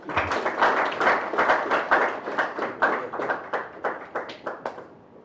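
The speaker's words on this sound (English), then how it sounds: "Another round of applause, please." A modest round of hand clapping from the audience at an African diaspora symposium, with distinct, uneven claps at a lively pace, then thinning out and fading toward the end.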